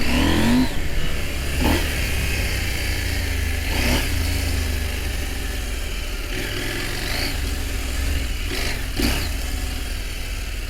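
A big motorcycle's engine drones steadily up close while it is ridden along a rough track, with repeated surges of revving throughout and no talking.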